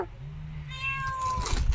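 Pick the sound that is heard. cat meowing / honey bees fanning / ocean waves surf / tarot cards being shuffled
cat meowing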